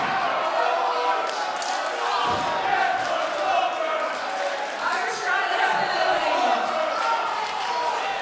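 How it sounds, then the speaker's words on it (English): A steel chair shot strikes a wrestler in the ring at a CCW Summerbrawl event, a single dull thud partly buried in constant crowd roar while a commentator talks throughout. "Chair shot there to the gut of Butch."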